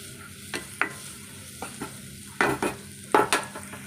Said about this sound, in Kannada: ಸ್ವಲ್ಪ ಈರುಳ್ಳಿ ನಾವು ಚೆನ್ನಾಗಿ ಬಾಡಿಸ್ಕೊಳ್ಳೋಣ